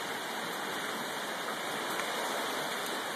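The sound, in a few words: rain falling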